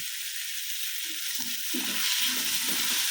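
Ginger, green chilli and curry leaves fry in a hot pan with a constant bright sizzle, close up, with soft stirring knocks and crackles rising as the pieces drop in.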